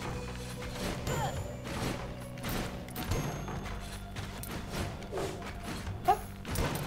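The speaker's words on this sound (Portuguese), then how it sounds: "Esse bagulho explodiu." Explosions and thuds in the video game Rogue Legacy, with repeated dull blasts and clattering hits over a busy game soundtrack, moderately loud and close.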